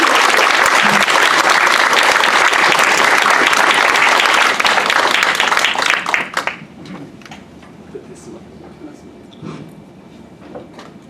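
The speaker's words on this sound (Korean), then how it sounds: "열광적인 박수와 열렬한 참여로 부탁드리겠습니다." Enthusiastic audience applause welcoming a professor for a forum lecture, loud dense clapping sustained for about six seconds before cutting off sharply into a quiet room with a few scattered sounds.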